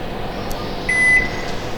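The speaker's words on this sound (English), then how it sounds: "Set the timer" A Wolf M-Series oven timer being set while baking focaccia gives a short electronic beep, a single steady tone lasting about a third of a second, close by over a low background hum.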